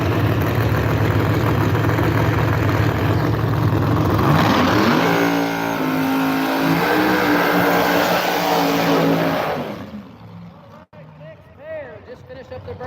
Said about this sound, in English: Just finished up their burnouts over in the left lane.